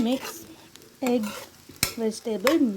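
A spatula stirs and mixes vegetable fried rice in a pan in short bursts of close scraping and clinking, with a faint sizzle between strokes.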